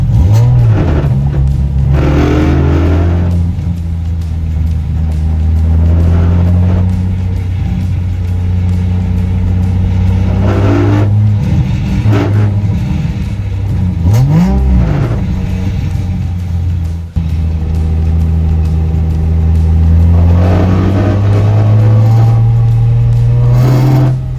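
A Nissan 350Z engine drones close by, rising and falling as it revs and drives, with occasional scraping and rattling noises over the steady hum.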